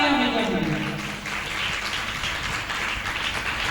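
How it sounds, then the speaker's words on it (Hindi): Enthusiastic audience applause at a Jain devotional bhajan evening, a loud wash of clapping that briefly overlaps a fading amplified voice before settling into steady crowd clapping. "एक बार जोरदार तालियां मिल गई।"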